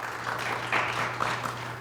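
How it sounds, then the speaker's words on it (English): Audience applause for the Belvidere North Blue Thunder quiz bowl team facing the Morrison Mustangs, a steady wash of clapping from a crowd, moderately loud and continuous with no talking over it. "How about a round of applause for them?"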